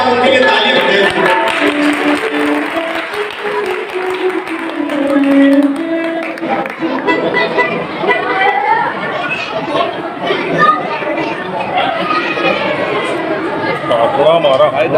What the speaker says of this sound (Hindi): देखिए जिनको भी सम्मान मिला उनके लिए ताली बजाइए